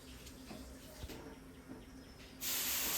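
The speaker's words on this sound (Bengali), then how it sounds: "এই যে একটুখানি জল দিয়ে দেখে নিলাম, তাওয়াটা কিন্তু খুব ভালোভাবে গরম হয়ে এসেছে।" Water splashed onto a hot tawa griddle bursts into a loud, steady hiss that starts abruptly late on, after a quiet stretch of faint background clatter.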